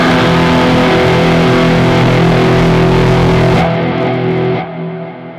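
Electric guitar run through a DRT distortion pedal with reverb, a loud, thick sustained chord tone for several seconds before the treble drops away and it decays near the end, no talking.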